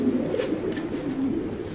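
Running Modena pigeons, an exhibition pair, coo close by in a low, rolling throb that pulses steadily without pause.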